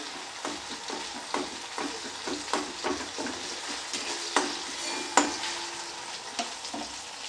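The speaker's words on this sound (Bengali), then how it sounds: "নাড়তে নাড়তে টমেটোটা নরম হয়ে এসেছে।" Tomatoes softening as they are stirred in a frying pan, a steady sizzle broken by repeated spoon scrapes and clacks against the pan in an uneven rhythm, close and clear with no talk.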